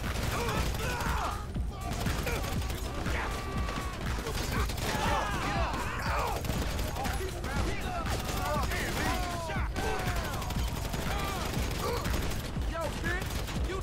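Gunfire in GTA 5 Online during a street mission, rapid bursts of shots and clattering mechanical sounds, loud and continuous amid chaotic game noise with some voices mixed in.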